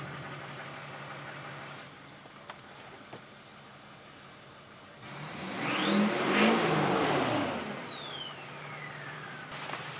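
A diesel truck that has sat unused for months turns over and catches midway, rising into a brief rev with a whining sweep before settling back down, heard close and fairly loud over a quiet background.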